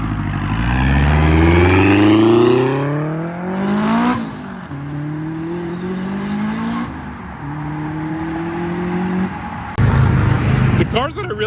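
A Dodge Hellcat wide body with a Red Eye setup accelerates hard away from a car meet, its loud engine climbing through rising gear sweeps, then pulling again in further shifts, close and dominant, with crowd voices beneath.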